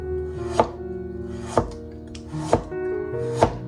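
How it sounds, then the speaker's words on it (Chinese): Four sharp knife strikes on a cutting board, spaced about a second apart, as a single carrot is cut into thin slices, close and clear over a steady low background hum. "准备1根胡萝卜，先切成薄片"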